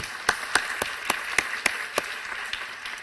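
Sparse applause from a small group at a medical awards ceremony, about ten distinct claps spaced unevenly, fairly close and moderately loud over a quiet room.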